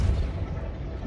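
A Depulso force spell fires in the video game Hogwarts Legacy, a single short, deep thump at the very start that rumbles and fades away over about a second.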